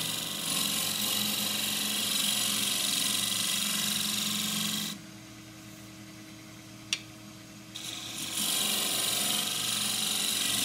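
A shear scraper cuts forest sheoak on a wood lathe, giving a loud steady whirring scrape with a hum beneath it, which drops away for about three seconds with one sharp click before resuming at full level.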